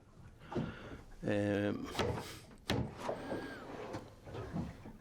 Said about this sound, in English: You can see that there is a very large hanging drawer here.